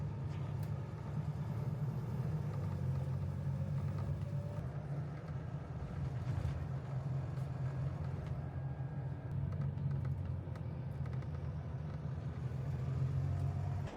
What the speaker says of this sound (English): I'm on the bus now.